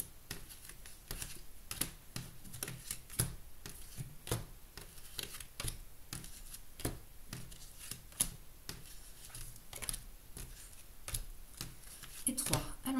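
Tarot cards being shuffled for a reading, a steady run of crisp riffles and slaps repeating close up throughout, without speech.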